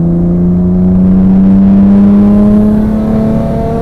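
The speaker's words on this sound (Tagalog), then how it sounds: "Yung kotse, parang brand new tumakbo, no? Walang kalampag." Mercedes-AMG Black Series car accelerating hard, a loud steady engine roar with a rising pitch sweeping upward throughout, heard close from inside the car.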